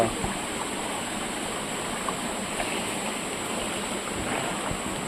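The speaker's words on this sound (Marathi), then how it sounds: "बघू शकता आमचा पर्या" A stream flows in a steady, even rush where crabs are being caught by a traditional method, close and constant with no voices.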